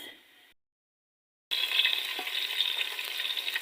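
Onions hit hot oil with whole garam masala for spinach pulao: a short fading sizzle, a second of silence, then a loud continuous frying hiss.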